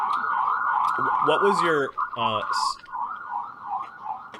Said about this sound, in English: Can we mute the sirens?